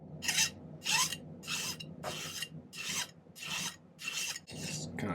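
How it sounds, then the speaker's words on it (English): A hand file works down the side of a silver tambourine pendant in eight crisp, evenly spaced rasping strokes, close and clear with brief gaps between them. "A little bit of filing here."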